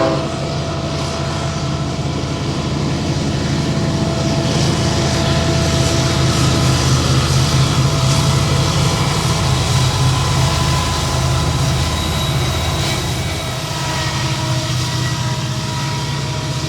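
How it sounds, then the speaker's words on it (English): A Union Pacific freight train leaving Colton Yard on the Sunset Route, a loud, steady rumble of engines and rolling cars close by that holds an even level throughout with no talking. "A train is leaving Colton Yard on the Sunset Route"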